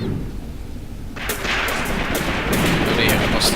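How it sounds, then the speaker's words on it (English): Machine guns on KV tanks fire in a video game, a sudden dense stretch of rapid cracking bursts after a quieter rumble, loud and close. "So the KVs are engaging with machine guns."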